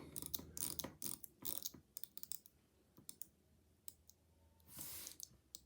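The rotating bezel on a Seiko Monster SRPH75 dive watch gives a close series of small dry clicks in quick irregular bursts, turned in spurts with short pauses.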